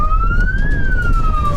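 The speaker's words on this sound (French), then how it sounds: "on met la sirène un peu" A police siren wails loudly and close, its tone sweeping up and then back down in one smooth cycle over a low engine rumble.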